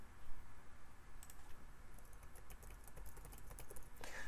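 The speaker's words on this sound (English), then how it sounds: "You go to action and then just type it here, termsofuse.com." A computer keyboard is being typed on: a quiet run of light, rapid key taps over a soft steady room hiss, ending in a slightly louder click, with no talking.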